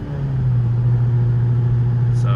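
A Honda Civic Type R LE in R mode, its engine and exhaust making a loud, steady low drone close by for a couple of seconds, with no change in pitch.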